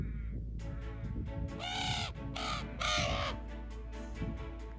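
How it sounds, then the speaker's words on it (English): Several harsh crow caws ring out in a loose series, fairly close, over a low steady background rumble outdoors on a snowy summit hike near Mount Twynam in Kosciuszko National Park, Australia. "Check out the crows."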